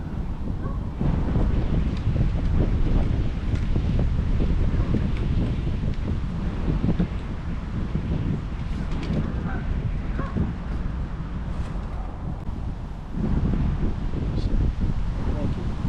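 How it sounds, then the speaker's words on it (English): Steady, heavy wind buffets the microphone throughout at Salford Quays, a constant low roar with occasional gusts and faint rustling. "Windy."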